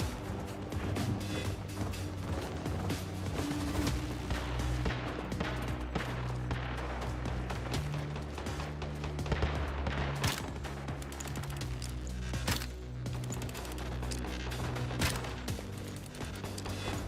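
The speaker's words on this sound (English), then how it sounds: "Still hearing gunfire." Dense, continuous gunfire in the video game Once Human, rapid bursts and scattered single shots, steady and mid-distance over a low rumbling background, without talking.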